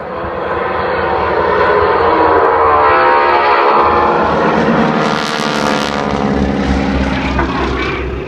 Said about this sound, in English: That's Dave Barrell in the lead aircraft